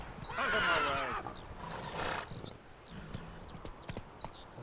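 In The Witcher 3: Wild Hunt, a horse gives a loud whinny followed by a snort, then hooves clop unevenly at a gallop with faint tonal game chimes, no talk.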